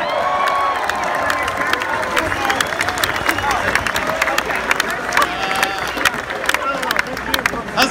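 Crowd at a nighttime football pep rally in South Bend, loud and close, with cheering, whoops and bursts of clapping over a continuous babble of voices.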